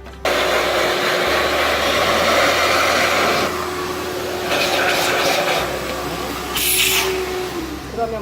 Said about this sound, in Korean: 이렇게 털고 청소기로 얘를 한번 싹 빨아들여주는 거예요.